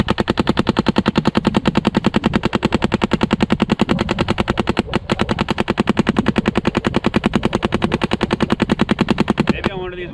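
A Planet Eclipse CS2 paintball marker firing in a rapid, steady stream of pops for about ten seconds, loud and close, with a brief gap midway and a short voice at the end.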